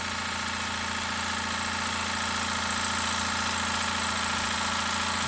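Wilesco D5 toy steam engine running steadily, a continuous even whirring mechanical hum with no breaks, fairly close and moderate in level.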